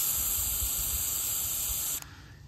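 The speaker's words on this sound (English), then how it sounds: "and we're going to spray." An Ortho Home Defense wasp and hornet aerosol can sprays in a steady, loud hiss for about two seconds, aimed at a distance test, then cuts off abruptly into quiet.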